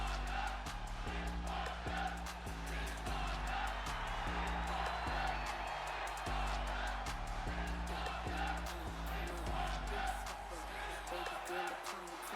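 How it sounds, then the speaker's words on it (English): Wrestling crowd at an IPW event roaring and cheering in a steady, dense wash, with a commentator talking over it and a rhythmic low musical pulse underneath throughout. "Crowd certainly let her hear it."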